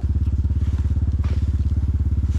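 Motorcycle engine idling close by with a fast, regular thumping putter, loud and steady throughout.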